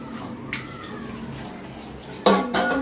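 Dishes being washed under running tap water in a home kitchen, with a steady trickle of water, a brief clink near the middle and a louder burst of splashing and clattering toward the end.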